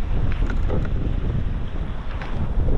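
Rough waves and strong wind on Lake Babīte heard from a small boat: loud buffeting wind noise over constant choppy water slapping against the hull, with no pauses.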